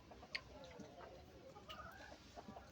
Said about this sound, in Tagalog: Manok yan guys ng kapitbahay.